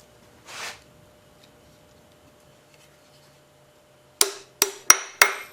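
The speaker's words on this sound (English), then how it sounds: "hit it with the magic hammer so I don't hit my fingers" After a brief scrape, a hammer strikes four sharp, close taps at a steady pace, tapping a part onto a Maytag 72 engine under repair, in an otherwise quiet space.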